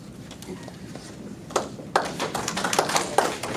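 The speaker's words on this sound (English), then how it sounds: "Sorry, no applause." A few people clap in the audience at a township meeting, with scattered, close hand-claps that start sparsely and grow into a denser patter over a couple of seconds.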